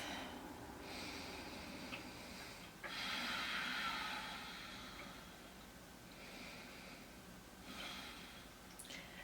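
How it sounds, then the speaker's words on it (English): Deep, audible breaths are drawn in and pushed out through the nose during a splits stretching exercise, slow and close, with a sharper inhale partway through and no talking. "Take a couple deep breaths."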